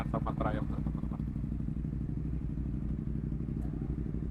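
A group of Triumph motorcycles rides together on a Bandung to Dieng tour, giving a low, steady engine drone at moderate distance, with someone speaking briefly at the start.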